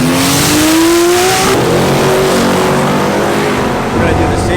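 A drag car, actually a camera car being raced, accelerates hard from a first-gear start. The loud engine climbs steeply in pitch at first, then settles into a roaring, broadband drone that holds close and loud throughout.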